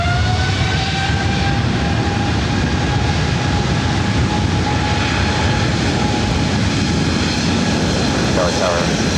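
Airbus A330 jet at Los Angeles International Airport, a steady loud engine roar with a rising whine, close by and continuous throughout, with faint voices beneath.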